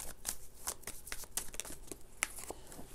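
Close, soft shuffling of tarot cards, with irregular papery flicks and light slaps as cards are mixed and drawn, fairly quiet and without talk.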